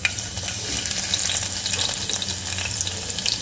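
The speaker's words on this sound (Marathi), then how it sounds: "थोडासा फोडणी करता लसूण ठेचलेला तो घालत आहे" Crushed garlic fries in hot tempering oil with mustard seeds and cumin, giving a close, steady crackling sizzle with stirring scrapes and no talk.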